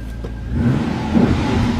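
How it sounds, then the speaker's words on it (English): Pontiac GTO engine firing up with a deep low rumble that swells as the revs rise, close and steady with no talking. "a motor's got so much torque it actually shifts in the housing as it starts"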